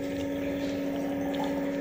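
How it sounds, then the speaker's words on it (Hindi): Water pouring into a Milton bottle, a steady close filling rush with a constant tonal whine throughout. "मम्मी मिल्टन की बोतल में पानी भर रही हैं"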